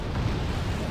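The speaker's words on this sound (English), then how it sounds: "Su-24M going to be dropping some bombs" Bombs dropped by a Su-24M strike aircraft in the strategy game Wargame Red Dragon, heard as a dense, sustained low rumble of explosions filling a very short stretch, with no breaks.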